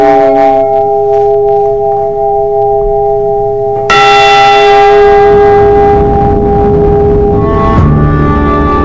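The recovered bell of the sunken freighter Edmund Fitzgerald rings loudly, a faint hum first and then one heavy strike whose long, shimmering tone rings on and slowly decays.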